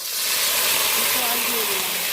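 Warm water poured into a pan of softened, browned onions sets off a loud, steady hiss of sizzling and steam that fills the whole stretch.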